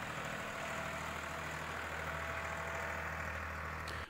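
A tractor engine runs steadily at a constant pace, a loud, even low rumble with a droning hum that holds throughout with no talk.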